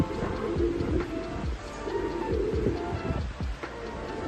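Pigeons coo in low, repeated throaty calls, fairly close, over a steady background murmur.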